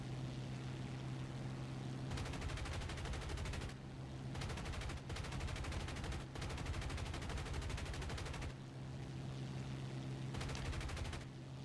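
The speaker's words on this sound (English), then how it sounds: "That's the downside with having the 50 cals in the wings." In a video game, the wing-mounted .50 caliber machine guns of a P-51H fire several long rattling bursts over a steady propeller engine drone, each burst lasting one to two seconds with brief pauses between.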